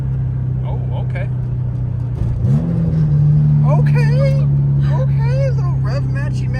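A project car's engine blips up during a rev-matched downshift, then holds a loud steady drone inside the cabin while a person talks over it.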